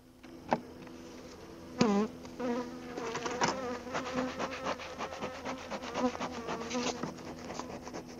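Dense, steady buzzing of many honey bees close by at an open hive, with sharper passes of individual bees flying near, continuous throughout with no talking.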